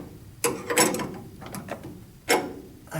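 A ratchet wrench tightening the sway bar on a 1962 Chevy Biscayne gives short, close bursts of clicking, a few spaced strokes with pauses between them and no talking.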